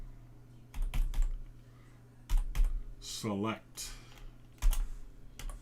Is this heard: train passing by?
no